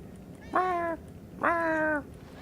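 Cat meowing in the video game Murdered, two clear drawn-out meows a second apart, close and distinct over a faint low background.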